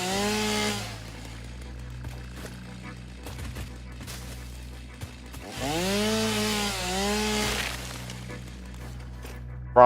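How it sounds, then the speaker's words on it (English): Chainsaw in the video game Satisfactory, a loud buzzing engine that revs up and down in two long bursts with idling in between, close and alone. "Oh yeah, totally chainsaws."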